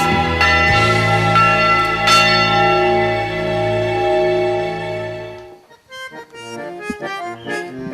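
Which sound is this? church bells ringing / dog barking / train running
church bells ringing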